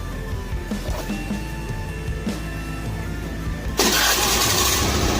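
Honda Beat FI scooter engine, with a fault that left it stalled and refusing to start, cranking and then catching, rising from a low mechanical whir into a louder, steady running hum near the end, close by.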